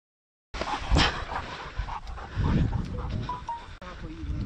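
A hunting dog on a partridge and dove hunt in Chile pants close and loud in quick, breathy gasps, with a rustle and faint voices around it.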